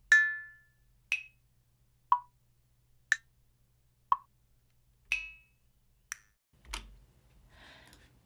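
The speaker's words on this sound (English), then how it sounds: "using 2 values here in this array, we're going to cause the comb filter to move across a stereophonic space." Short percussive sound file run through a comb filter in SuperCollider, about eight sharp clicks and plops spaced roughly a second apart, each with a brief metallic ringing tail, faint overall and alone.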